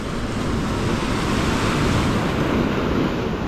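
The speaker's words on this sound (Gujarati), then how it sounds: "મોજા તો તમારા ફટાક દઈને અહીંથી ફટકાય ને સીધા અહીંયા સુધી આવશે" Sea waves crash against the shore beside the Ratneshwar Mahadev temple, where a Shiva linga sits submerged. The surf roars loud and steady throughout, with wind buffeting the microphone.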